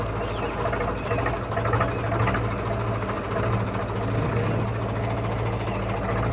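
A Ford 855 tractor engine runs steadily and loudly up close, a continuous low mechanical chug with a faint rattling texture, no talking over it.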